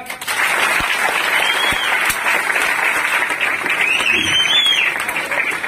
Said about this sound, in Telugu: సార్ ఒకసారి బిగ్ క్లాప్.